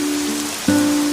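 Rain falls in a steady, even hiss over a surface, continuous and close, with a low humming tone underneath.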